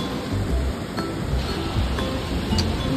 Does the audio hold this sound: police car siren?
no